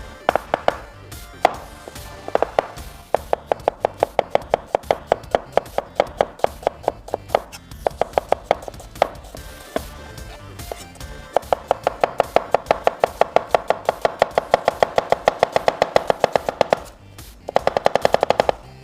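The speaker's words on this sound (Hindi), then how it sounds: "हम लोग प्याज को बिल्कुल फाइनली स्लाइस कर लेते हैं" An onion, root end removed, finely sliced with a knife on a board, a fast, rapid run of sharp, even chops, loud and close, pausing briefly before resuming at speed, with no talk.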